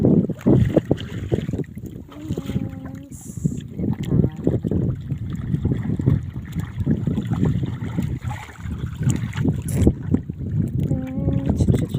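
A small boat moving across the open sea, with steady engine rumble and wind buffeting the microphone while people talk briefly.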